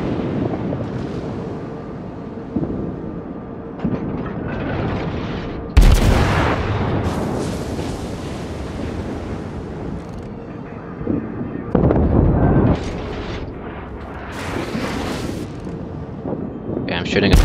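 Warship guns firing at an enemy Kaiser battleship in a naval combat video game: repeated heavy booms and blasts, several sharp loud salvos standing out over a continuous rumbling battle din.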